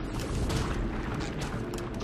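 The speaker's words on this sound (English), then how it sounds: "Alright, now explosion." Explosion in The SpongeBob SquarePants Movie video game: a dense, continuous low rumbling roar with broadband crackle holding steady and loud for about two seconds, with no voices over it.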